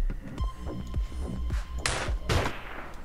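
Repeated gunshots in the video game A Night In Berlin, a quick series of thumping shots with two louder, brighter blasts near the end over constant game background.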